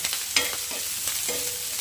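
Half a tomato tipped into a frying pan of vegetables and stirred, scraping utensil strokes over a continuous bright sizzle, close and fairly loud with no talking.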